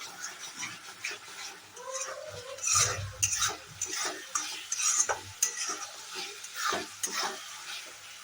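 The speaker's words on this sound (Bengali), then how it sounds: "কিন্তু পরে লেগে যাবার একটা প্রবণতা থাকবে, তো কন্টিনিউয়াসলি এটা নাড়াতে থাকবে" Chicken in curd gravy thickened with cashew paste being stirred continuously in a pan, giving close, busy scraping and clinking strokes over a soft sizzle, with no talking.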